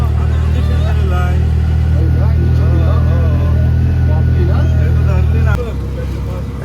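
A vehicle engine idles and rumbles steadily at a village railway station, likely the waiting auto-rickshaw, loud and close, with people talking over it, then dropping away near the end.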